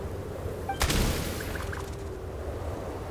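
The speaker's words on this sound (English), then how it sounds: "There's the gunshot." A single sharp gunshot sounds in a Genshin Impact quest scene in snowy Snezhnaya, a sudden loud crack followed by a short decaying echo over a steady ambient background.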